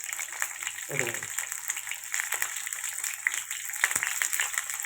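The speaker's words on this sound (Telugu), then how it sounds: "ఉత్తి కాకరకాయలే వేపుతున్నాను" Slit whole bitter gourds fry in a pan with no tempering seeds, giving a steady broadband sizzle throughout, with a brief voice and a couple of small clatters against the pan.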